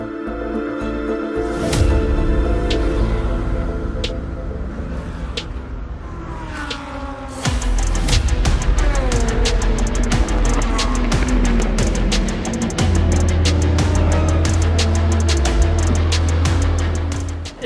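Endurance race cars at the 4 Hours of Le Castellet, with engines roaring continuously, loud and close, cars passing and revving while a steady low drone of other cars runs underneath.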